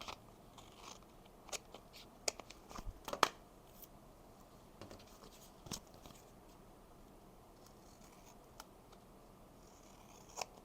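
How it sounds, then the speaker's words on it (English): Scissors trimming excess patterned paper from a handmade holiday gift tag, a few quiet isolated snips and paper rustles scattered over a hushed room, with a brief cluster of cuts partway through. "And then I'll just trim off the excess."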